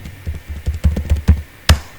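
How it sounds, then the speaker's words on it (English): Keystrokes on a computer keyboard while entering an SQL command, a quick irregular run of close, crisp clicks and taps with no talking. "So here I'm typing explain"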